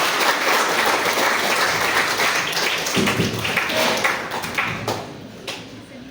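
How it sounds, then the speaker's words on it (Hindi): An audience at a Constitution Day college function in Jawanga, Dantewada, Chhattisgarh applauds to welcome a speaker. The clapping is dense and steady at first, then thins toward the end. "दो ताली बजा सकते हैं"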